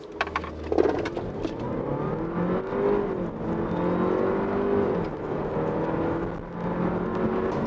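An Audi A5 Sportback 40 TFSI quattro accelerates hard in Dynamic mode with ESC off, its engine note rising steadily and droning loudly throughout, with no talk.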